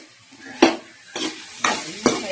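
Homemade masala with salt stirred and fried in a pan for a beans dish, four distinct scraping stir strokes over a soft sizzle, close and moderately loud, no talking.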